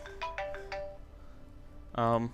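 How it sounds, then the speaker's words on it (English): An incoming phone call rings with a short melodic ringtone of four quick chime notes, then a brighter tone a moment later. It plays quietly in the background of a Diablo 3 game session. "Oh, phone call."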